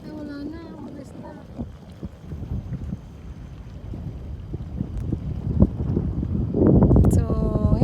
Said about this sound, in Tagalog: Mahangin. Ang sarap ng hangin.